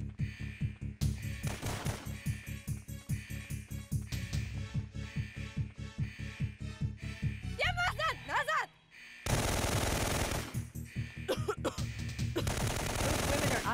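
Prisoners fire guns in Syphon Filter 2, rattling out sustained machine-gun bursts in a fast steady rhythm, loud and close, then a short pause and a denser noisy barrage of gunfire.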